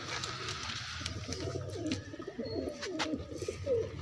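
Pigeons coo repeatedly in a coop where a pair has been shut in for breeding, with soft throaty coos rising and falling over steady background noise and some higher chirps, fairly close throughout.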